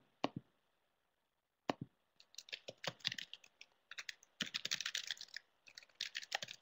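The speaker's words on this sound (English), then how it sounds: "I know you guys can hear me typing" Quiet keyboard typing: a couple of isolated key taps, then bursts of rapid, uneven clicking close by.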